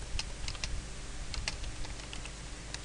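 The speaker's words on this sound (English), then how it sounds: "If I even try and type in" Quiet clicking of fingers typing on a computer keyboard, a quick irregular run of soft keystrokes heard close with no talking.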